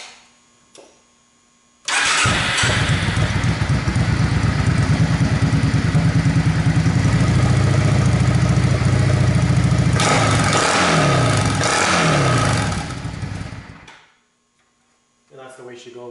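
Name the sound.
motorcycle engine started and idling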